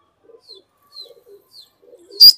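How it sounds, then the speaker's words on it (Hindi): Soft pigeon coos repeat a few times, then a brief sharp flutter of wings sounds close by at the end. "ये आता हुआ कबूतर"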